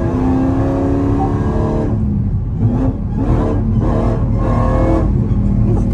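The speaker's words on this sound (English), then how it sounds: "that supercharger, that's it" A supercharged 850 hp Dodge Charger SRT Hellcat accelerates hard on a back road, its loud engine roar and supercharger whine heard from inside the car, broken by brief gear-shift dips as it keeps pulling.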